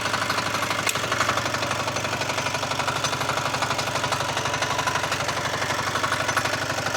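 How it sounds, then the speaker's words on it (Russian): A Forte 1035-3 walk-behind tractor engine runs steadily in first low gear, a close, loud, even mechanical chugging with a rapid regular knock that continues without pause. "Первое пониженное включаю"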